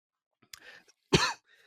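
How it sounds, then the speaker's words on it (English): A single harsh cough bursts out near the microphone after a few quieter throat and mouth noises, then fades into faint rustling in an otherwise quiet room. "I'm gonna cut out all my coughing."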